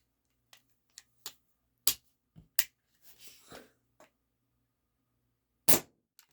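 Air rifle firing lead-free pellets, several sharp snapping cracks spaced irregularly with a brief rustle in between, the last report loud and close.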